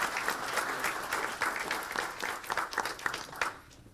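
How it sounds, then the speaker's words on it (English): An audience applauds at an Alvin ISD school board meeting, steady, fairly loud clapping from a modest crowd that holds for several seconds and then tapers off at the end. "how about a round of applause for our two leaders that are here tonight?"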